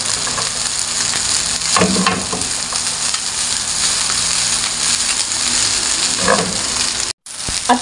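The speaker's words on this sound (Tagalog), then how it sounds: "kailangan haluin natin ng maigi mga mare ha para pantay ang ating mga ingredients" Fried rice for chowfan sizzles steadily in a hot pan, with a spatula scraping and tossing the grains in a few louder bursts over the constant frying hiss.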